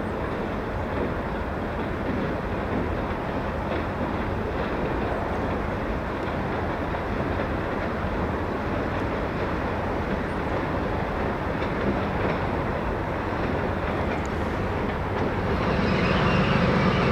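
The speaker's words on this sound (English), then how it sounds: "pulling the train south to drop the transformer and the KC boxcar." A long freight train rolls past in a continuous broad rumble and rattle of rail cars, including a transformer car and a boxcar, steady throughout and swelling slightly at the end.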